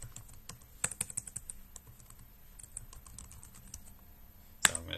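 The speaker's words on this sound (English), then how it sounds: "So I'm going to type in my username and then now my password." A username and password being typed on a computer keyboard: quick bursts of close, crisp key clicks, irregular in rhythm, with a sharper, louder keystroke near the end and no voices.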